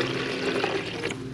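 Water streams steadily into a plastic rabbit waterer bucket fitted with drinking nipples, making a continuous, close splashing and filling sound with no talking.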